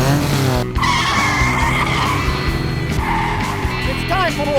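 Intro sound effect of a car engine revving with tires squealing and skidding, loud and continuous, the engine note rising and shifting in pitch throughout.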